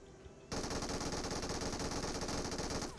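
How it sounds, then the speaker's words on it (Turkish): Sustained automatic machine gun fire in the mobile shooter game PUBG Mobile, a dense, loud, rapid burst that starts abruptly and runs unbroken to the end. "MG var gerçi, bunu tararım."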